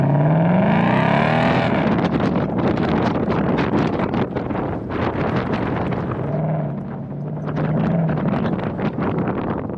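A 2020 Ford Mustang GT convertible with a V8 and active valve performance exhaust revs loudly, then booms and rumbles steadily through the clip, heavily buffeted by wind noise while driving, with no talking.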